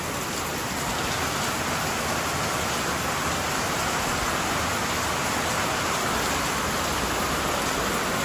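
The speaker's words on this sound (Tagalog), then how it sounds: "ng inang lakas ng ulan oh" Heavy rain pours down steadily in a dense, even hiss, loud and unbroken throughout with no other sounds standing out.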